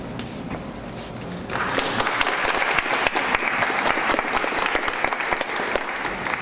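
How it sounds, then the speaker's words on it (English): Rousing audience applause at a 2014 campaign launch greets the introduction of a deputy minister, starting after a quieter moment and building into steady, dense clapping that fills the room for several seconds with no talk over it. "Thank you for that rousing applause."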